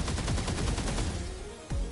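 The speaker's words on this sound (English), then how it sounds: "he fired a bunch of shots into the sky" Rapid bursts of gunfire from a mech firing into the sky in the PS4 Pro game 13 Sentinels: Aegis Rim, a dense volley of repeated shots followed by a single sharper blast near the end.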